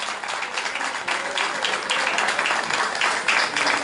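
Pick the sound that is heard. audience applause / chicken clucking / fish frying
audience applause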